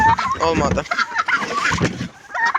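Chickens cluck and chatter at an evening feeding in a rural yard, a busy close flock of clucks and squawks, with a voice briefly calling among them.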